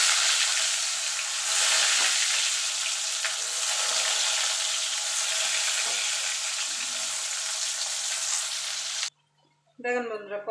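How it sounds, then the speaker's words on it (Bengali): Raw green banana slices fry in hot oil in a home kitchen, giving a steady loud sizzle that runs on for several seconds, then cuts off abruptly, followed by a brief voice. "এইভাবে বাকি যে কলাগুলো আছে সেগুলো আমি ভেজে নেব।"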